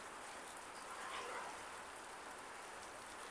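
Steady rain from Hurricane Milton pours down in a continuous, even hiss with no breaks, fairly faint and distant-sounding, in breezy conditions.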